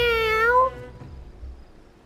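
A baby curl creature in Final Fantasy XIV gives one clear meow-like cry lasting about half a second, followed by quiet low rumbling background.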